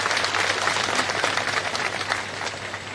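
A large crowd at a political gathering applauds Rajasthan Chief Minister Ashok Gehlot with dense, sustained clapping that holds steady throughout, loud and continuous without pause.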